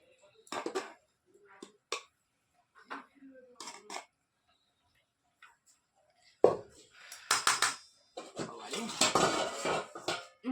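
Metal plates and utensils clink and scrape as rice is served into two plates in a home kitchen, sporadic close clatter with pauses, growing busier toward the end while someone talks.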